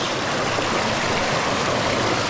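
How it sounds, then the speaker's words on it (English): A Vermont brook tumbles over a small stair-stepping waterfall, a steady broadband rushing roar that is close and constant, with no talking. "Do not fall down the waterfall, Graham."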